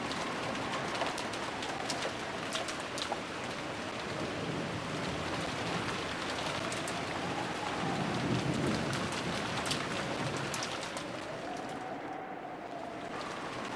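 Steady rain pours through a rose garden in the Umineko visual novel, a dense continuous hiss with a soft low rumble midway, with no voices over it.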